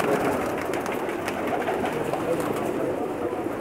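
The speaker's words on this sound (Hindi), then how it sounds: "ये तमाम के तमाम टैडी कबूतर हैं जी" Teddy pigeons, an old Pakistani breed kept in a loft in Jeddah, Saudi Arabia, coo steadily and close by, with overlapping soft calls forming a continuous murmur throughout.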